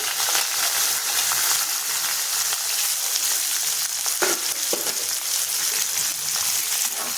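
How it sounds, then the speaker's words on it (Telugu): Thinly sliced onion pieces frying in hot oil for tomato semiya, a loud, steady close sizzle with a few brief stirring clinks and no speech. "ఇప్పుడు నేను సన్నగా కట్ చేసి పెట్టుకున్న ఉల్లిపాయ ముక్కలు వేస్తున్నానండి"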